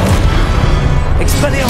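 Incendio fire spell cast in Hogwarts Legacy, a steady roaring burst of magical fire and booming energy that fills the whole moment, with game effects layered throughout.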